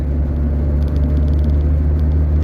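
A car engine hums steadily from inside the vehicle on the drive to the Dniester river, a loud, even low rumble with no voices.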